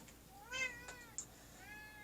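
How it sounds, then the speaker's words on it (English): A pet cat meows in the background of a quiet room, giving two drawn-out, rising cries a second or so apart, faint and unaccompanied by talk. "you're also hearing my own cat"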